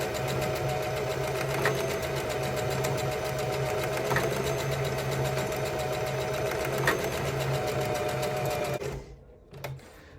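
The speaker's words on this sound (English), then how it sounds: "I'm just gonna sew it. So I usually do a zigzag stitch" A sewing machine runs a zigzag stitch across ribbon skirt fabric, a close, steady mechanical whir for nearly nine seconds before it stops, followed by a couple of faint clicks.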